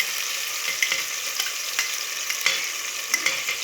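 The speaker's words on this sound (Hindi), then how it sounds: "सबसे पहले मैं टमाटर को डालूँगी और इसे आपने इसी तरह से हिलाते रहना है।" Chopped tomatoes frying in a pan while a spoon keeps stirring them: a constant bright sizzle with light scraping clicks and taps at irregular intervals, close up, with no voices.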